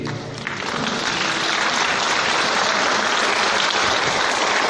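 A congregation in a church breaks into applause that swells within half a second into a dense, loud, sustained wash of clapping with no pause.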